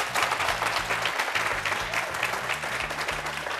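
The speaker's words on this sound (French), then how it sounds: "Amis jeunes, applaudissez-vous très fort." A young studio audience at a televised youth debate show claps loudly and continuously, a dense, close wash of applause with music underneath.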